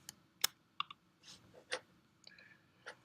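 Several sharp, close mouse clicks in a quiet room, spaced irregularly, with a few light keyboard-like taps among them while signing in to Microsoft Forms.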